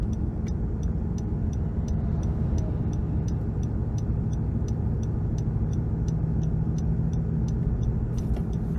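A 2015 Honda Accord Hybrid EX-L pulls away under full throttle, giving a steady, fairly loud low drone of road and cabin noise with a faint regular ticking running throughout.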